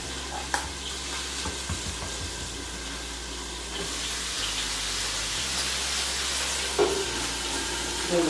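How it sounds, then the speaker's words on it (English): Breakfast potatoes fry in a pan, a soft continuous sizzle and hiss heard from a short distance, with a few clinks and stirring knocks near the start. "You hear the potatoes cooking over there?"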